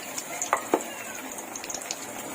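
Eggplant fritters (beguni) fry in hot oil, giving a close, continuous sizzle with scattered sharp pops and crackles and no talking.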